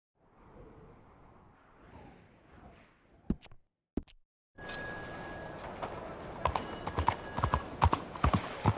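Horse hooves clip-clop on hard ground in a steady trotting rhythm in Red Dead Redemption 2, fairly close, over a dense background of game ambience after a quiet stretch.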